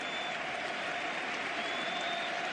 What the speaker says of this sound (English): the round of applause around this stadium